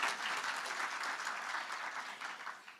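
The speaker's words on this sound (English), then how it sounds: "Guys, round of applause for all our graduates" An audience at a City of Johannesburg skills development graduation ceremony applauds its graduates, giving dense, steady clapping from a crowd that holds for the whole stretch and eases slightly toward the end.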